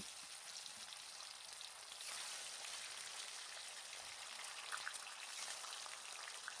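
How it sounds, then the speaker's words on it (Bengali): Fish slices fry in hot mustard oil with a steady, dense sizzle and crackle throughout, growing a bit louder partway and holding an even spitting texture, close up with no talking. "এবার ওই গরম তেলে এক এক করে চাকাগুলোকে ভেজে নেব"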